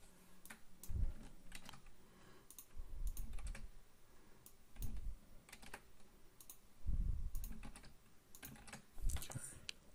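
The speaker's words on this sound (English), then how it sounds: "I'm not a fan of typing this stuff in" Quiet, rapid clicking of computer keys in irregular bursts, with occasional soft thumps, close by and with no talking.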